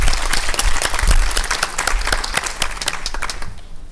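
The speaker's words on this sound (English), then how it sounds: "Can we give him another round of applause," A crowd at a Commonwealth Day 2024 event applauds steadily for about four seconds, dense overlapping claps filling the room before tapering off slightly at the end.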